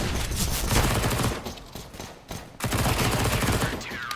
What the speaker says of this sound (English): Eco bashing from range with the rifle.